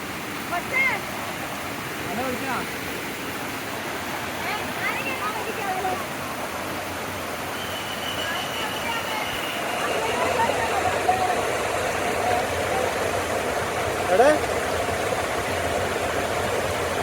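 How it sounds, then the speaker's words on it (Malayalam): Steady rushing river water flows continuously, a broad hiss like a river or small falls, with brief faint voices and a few light sounds on top. "നല്ല പുഴയാണ്"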